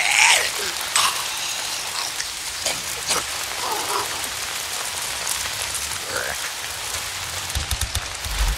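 Steady rain falls in an outdoor scene of the video game Days Gone on PC, a constant hiss of drops on surfaces filling the whole stretch, with a few faint louder spatters and some low background noise.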